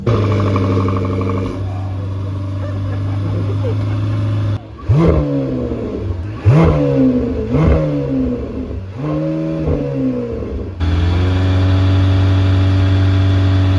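A new Lamborghini Temerario's V8 engine, which revs to 10,000 RPM, idles loudly, then falls briefly silent before a series of sharp, rising revs that climb and fall several times, then settles back to a steady idle.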